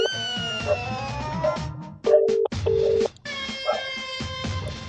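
A phone is dialed for a call, giving two sustained electronic tones separated by a short gap. Voices talk and react around the tones.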